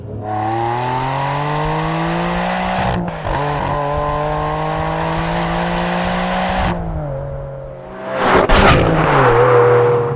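A Ferrari 575M engine roars loudly as it accelerates hard on an open road, rising in pitch through paddle-shifted gears with a brief break between shifts, then a final throaty burst.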